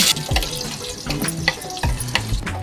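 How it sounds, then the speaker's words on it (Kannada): Mustard seeds and curry leaves frying in oil with ground masala for a tempering, with close sizzling and several sharp stirring clatters and scrapes against the pot, no voices. "ಒಗ್ಗರಣೆಗೆ ಒಂದು ಪಾತ್ರೆ ಇಟ್ಕೊಂಡು ಎಣ್ಣೆ ಸಾಸಿವೆ ಕರಿಬೇವು ಹಾಕಿ ಬಾಡಿಸ್ಕೊಂಡು"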